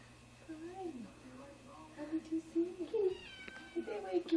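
A house cat meows repeatedly in short, rising calls close by, several in a row, while people talk softly around it in a home at Christmas.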